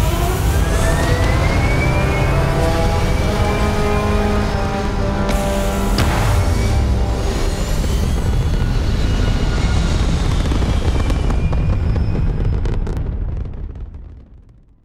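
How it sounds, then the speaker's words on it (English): Spaceship thrusters fire in the Starfield video game as a loud, steady roar with layered engine rumble and whooshing tones, holding strong for about thirteen seconds before fading out at the end. "Thrusters firing."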